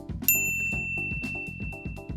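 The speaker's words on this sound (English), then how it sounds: "ring the bell to be notified about our latest videos" A bright bell-like ding rings out once with a long ringing tail, sitting over a steady rhythmic musical backing.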